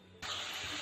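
Chopped onions drop into a hot pan; after a moment of near quiet, a sudden sharp hiss bursts in and holds as a bright, steady sizzle.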